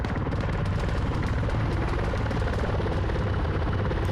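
A Sea Stallion helicopter in a multiplayer video game, its rotor a loud, steady, rapid chopping drone with a continuous low rumble that holds evenly throughout, no speech.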